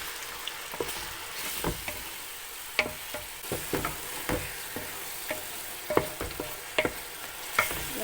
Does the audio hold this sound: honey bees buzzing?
no